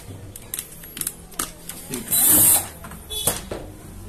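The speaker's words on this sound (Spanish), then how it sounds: "para retirar el aro, simplemente soltar todos los tornillos que tiene, son tornillos de estrella" Phillips screws being unscrewed from the ring of an LG direct drive washing machine, a string of sharp tool clicks and scrapes with a brief loud hiss midway.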